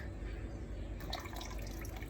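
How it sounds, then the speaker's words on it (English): Water trickling and dripping from the sides of a leca plant container during flushing, a continuous close wash of splashing liquid with brighter drip sounds appearing partway through, no speech. "apparently I can show you because the waters are dripping from the sides"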